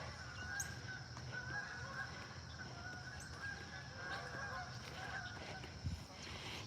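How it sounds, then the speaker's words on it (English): Canada geese honking at a distance over steady outdoor ambience on a morning walk, with scattered calls rising through a constant background rumble. "Good morning, geese."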